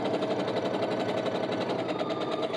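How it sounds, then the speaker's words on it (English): A sewing machine runs steadily, stitching a scant quarter-inch seam in fabric, a fast even mechanical whir with a rapid needle pulse, close and alone. "I'm going to sew this again with a scant 1/4 inch seam down both sides."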